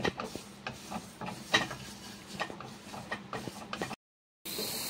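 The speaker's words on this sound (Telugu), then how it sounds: "ఏం చేద్దాము అయితే బాగా రోస్ట్ చేసేద్దామండి" Cloves and spices dry-roasting in a pan, with close dry ticking, rattling and scraping as they are stirred, fairly quiet, then an abrupt cut to silence and a steady hiss.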